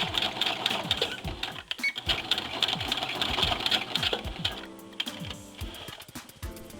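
A sewing machine hems a dress shirt with rapid, close ticking and clicking of the needle, fairly loud and uneven, with small handling noises mixed in and no talk.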